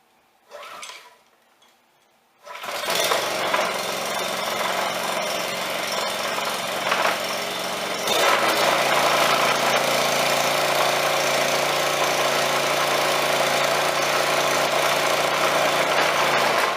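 A Briggs and Stratton small engine, freshly rebuilt, fires up after a brief pull and settles into a steady, loud idle that runs on alone with a slight step up in intensity partway through.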